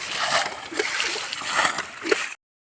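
Water is splashed out of a small pit with a little hand tool while fishing in sunny Assam, a rapid run of close, wet sloshing throws that stops abruptly.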